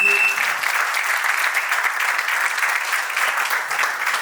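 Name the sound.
guests applauding at a civil wedding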